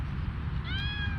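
A cat in a park meows once, clear and fairly close, over steady outdoor background noise.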